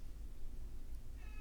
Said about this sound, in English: My cat is meowing, in case you can hear him in the background.